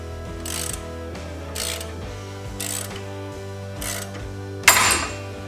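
An ARES tie rod end removal tool is snugged up with a hand ratchet, giving a series of distinct clicking ratchet strokes at about one per second over a low steady hum, ending in a louder final click.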